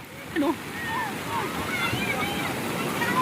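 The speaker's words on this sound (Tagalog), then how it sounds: "Lakas ng alon pa naman." Strong sea waves surge at Patungan Beach in rainy weather, a broad continuous wash of surf mixed with wind noise, with people's voices calling faintly over it.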